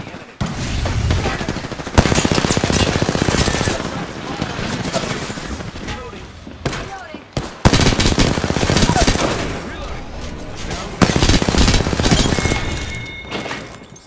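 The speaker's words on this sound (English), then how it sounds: "Opening fire." Gunfire in the Apex Legends video game during a Season 11 match: loud, sustained bursts of automatic weapon fire with sharp breaks and impacts, heavy and continuous, with voice chatter mixed in.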